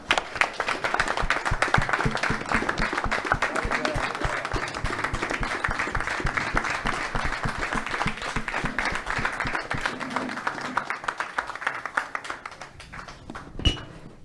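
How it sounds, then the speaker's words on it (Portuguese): A large audience gives dense, sustained applause that stays steady for most of its length, then thins out into scattered claps and fades near the end. "que todos nós levantássemos e desse uma salva de palmas para todos que lembraram da gente"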